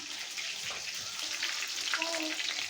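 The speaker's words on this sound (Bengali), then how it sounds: "মাংসগুলো আমার ভাজা হয়ে গেছে, ফুটুস ফুটুস ফুটতেছে" Chicken pieces frying and bubbling in a pan, a steady close crackling sizzle with a brief burst of bubbling near the end.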